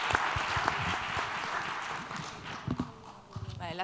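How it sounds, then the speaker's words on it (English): Audience applause at a quantum technology conference meeting in Spain, a dense wash of clapping for about two and a half seconds that thins out, leaving scattered claps and some talking near the end. "an applause for everybody"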